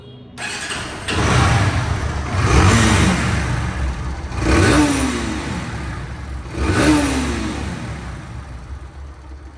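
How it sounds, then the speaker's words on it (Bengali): A second-hand Bajaj Pulsar NS 160cc motorcycle in showroom condition revs close by, its engine rising and falling in three distinct throttle blips over a steady idle. "এখন সাউন্ড কোয়ালিটি শোনাবো বাইকটি সাউন্ড কোয়ালিটি শুনলে আরও অবাক হয়ে যাবে"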